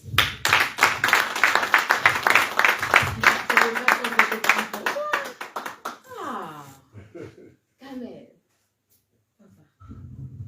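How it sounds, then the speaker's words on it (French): A church congregation claps loudly in a steady rhythm for several seconds, then the clapping fades into voices and excited exclamations before a short silence. "On applaudit."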